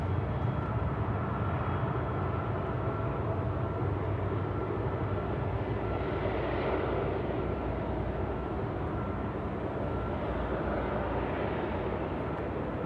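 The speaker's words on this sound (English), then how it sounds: "Emirates A380, which just joined us on runway 16 right earlier, is making its way to the terminal" Emirates A380 airliner taxiing to the terminal at Sydney Airport at night, a steady low jet engine rumble and broadband roar heard from a distance, continuous and unchanging.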